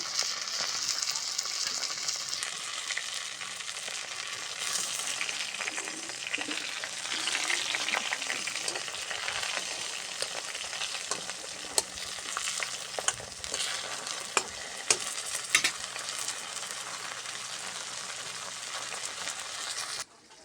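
Prawn and gourd-leaf fritters fry steadily in a pan of hot oil, a dense continuous sizzle with scattered pops and crackles running throughout, fairly close and without any talking.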